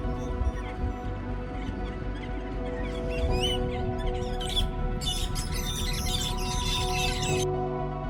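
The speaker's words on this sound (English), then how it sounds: "Always birds in the wild. Always birds in nature. Disturbing the filming." Wild birds in tropical Cape York rainforest chirp and call in quick, varied bursts over a steady background hum, growing busier and denser midway before easing off near the end.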